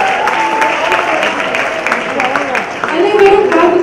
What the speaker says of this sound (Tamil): நமது ஜிடிசி நடிகர்களுக்கு மீண்டும் ஒரு பலத்த கைத்தட்டார்